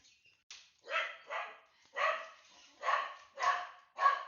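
A dog barks angrily indoors, six or seven sharp yapping barks in an irregular burst, fairly close and heard alone.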